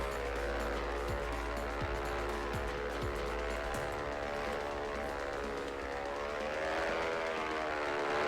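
A Diamond DA62 twin-engine aircraft approaches to land in X-Plane 11, its steady propeller drone and rising engine harmonics sustained and loud throughout, with a slight pitch change near the end.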